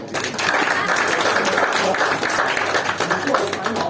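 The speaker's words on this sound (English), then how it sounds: "Give yourself a big round of applause for being here tonight." A room full of people clapping steadily at a Toastmasters meeting, a dense wash of applause that swells and holds, with voices mixed in underneath.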